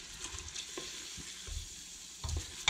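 A dark roux of lard and plain flour stirred in a pan, quiet sizzling under repeated scraping strokes of a utensil, with a few louder stirs near the end.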